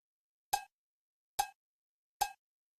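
Three evenly spaced cowbell hits from a sample, each short, bright and metallic, sounding alone against silence.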